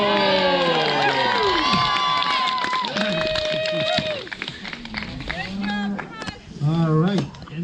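A crowd at an outdoor woodsman competition during a maple festival cheers and shouts encouragement to the competitors, lively voices near and far over continuous chatter.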